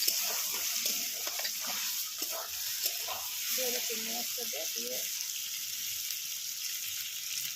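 Green chillies and sugar fry in a pan with a soft, steady sizzle, punctuated by brief stirring sounds, while a voice speaks over the cooking.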